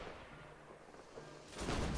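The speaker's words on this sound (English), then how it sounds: "they're turning the cannon to open fire upon them" A cannon opens fire in a musket-era battle game with militia and French grenadiers: faint distant rumble, then one heavy, broad boom rising over the last half second.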